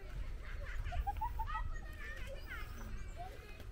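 In a village street in Rooppur, Bangladesh, children call out and chatter in high, excited voices at mid distance, with several overlapping shouts over a low outdoor rumble.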